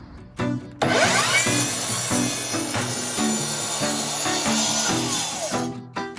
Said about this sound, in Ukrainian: Сьогодні ми подивимось на акумуляторну торцювальну пилку Хайкокі.